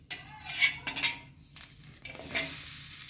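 Onion sautéed in a pan with chillies, with uneven scraping and clinking of a spatula against the metal over a soft sizzle that comes in short bursts.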